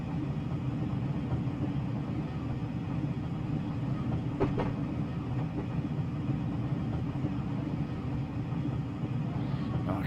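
Class 503 electric train running in Train Simulator Classic on the Sheerness-on-Sea to Ebbsfleet line, giving a steady low rumble with a brief clatter midway and no voices.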